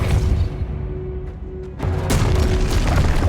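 Casting the Depulso spell in Hogwarts Legacy sets off a couple of sharp, booming magical blasts over a steady low game ambience.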